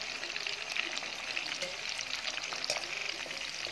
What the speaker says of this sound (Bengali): হালকা করে ভেজেছে চিংড়িটা